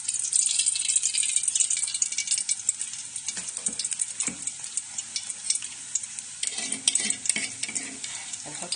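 Oil goes into a cooking pot for moussaka, with a bright, steady sizzle and hiss up front, then sporadic clinks and scraping knocks of utensils against the pot while it keeps frying.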